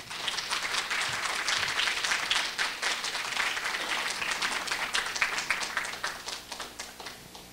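A hall audience claps to welcome a lecturer at a Korea University graduate school entrance ceremony, steady sustained applause at a moderate distance that tapers off slightly near the end.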